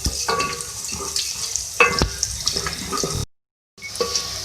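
Ingredients for a beef aloo gosht korma frying in a pot, with a constant sizzle broken by scraping spoon strokes and clinks, close by, then a brief cut to silence before the frying resumes.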